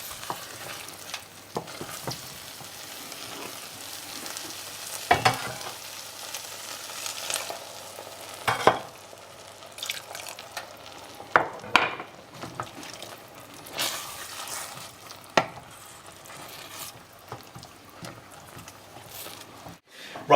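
Pea and mint risotto is stirred in a pan over medium heat, a soft steady simmering sizzle broken by scraping spoon strokes and occasional sharper knocks against the pan.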